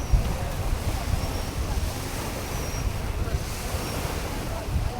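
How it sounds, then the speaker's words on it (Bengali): Wind-driven waves wash over Kaptai Lake near sunset, a steady, full rush of choppy water with gusting wind noise buffeting the microphone throughout, with no distinct pauses. "মনে হচ্ছে বাতাসে এরকম ঢেউ হচ্ছে, মনে হচ্ছে যে সমুদ্রের পাড়ে আছে। দেখেন কি ঢেউ, কিন্তু এটা কিন্তু কাপ্তাই লেক।"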